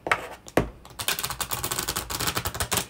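A deck of tarot-style oracle cards being shuffled, a rapid flurry of crisp clicking riffles, up close and alone.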